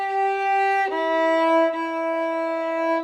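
A violin plays three sustained notes from measure 2 of Lightly Row, bowed smoothly and clearly, close and moderately loud.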